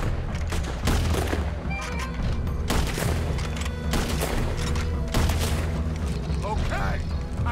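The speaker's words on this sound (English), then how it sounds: "Put every bullet you got in him." Gunfire from the Red Dead Redemption 2 video game crackles in a dense, continuous barrage of overlapping shots and booms, loud and close throughout, with speech faintly mixed in.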